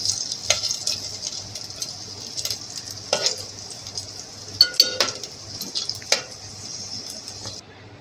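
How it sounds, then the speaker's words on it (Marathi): Cashews and raisins frying in hot oil, giving a steady high sizzle with occasional metallic clinks and scrapes of a spoon against the pan, close by and without speech. "थोडं मी काजू टाकते याच्यामध्ये आणि हे टाकते मनुके आणि काजू जरा थोडेसे फ्राय करून घेते"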